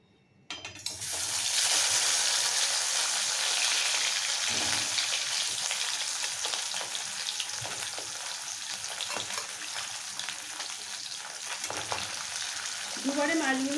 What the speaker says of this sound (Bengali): এবার সর্ষের তেলটা ভালোভাবে গরম হয়ে যাওয়ার পর মাছগুলো ছেড়ে দিচ্ছি